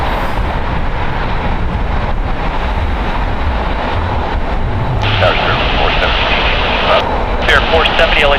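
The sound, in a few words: Airbus A320 jet aircraft at LAX airport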